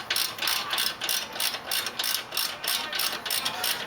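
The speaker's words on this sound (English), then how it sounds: "So now I can probably finish it off with a ratchet." Ratchet loosening a brake caliper bolt on a Range Rover MKIII: fast, steady clicking of the pawl in regular close-up bursts throughout, with no talk.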